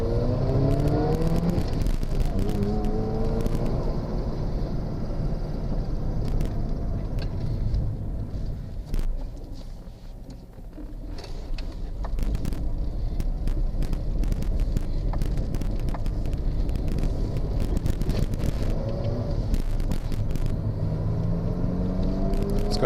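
A twin-turbo Mazda RX-7 FD3S sports car accelerates hard through its rev range, the engine note climbing in pitch, easing off, then climbing again, with wind buffeting the microphone throughout.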